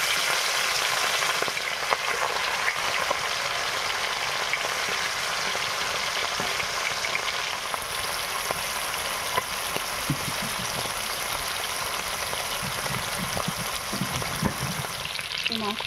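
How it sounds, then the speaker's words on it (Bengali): Turmeric-coated rui fish pieces fry in hot oil in a wok, giving a continuous, close, crackling sizzle with occasional louder pops and spatters throughout. "তেলটা গরম হয়ে গেছে, মাছগুলো দিয়ে দিচ্ছি"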